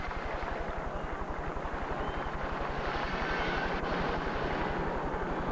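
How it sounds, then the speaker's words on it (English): Helicopters hovering overhead during a 1995 Tour de France stage, a loud, rapid rotor thump pulsing evenly throughout under a broad engine roar. "The helicopters are now overhead of our commentary position"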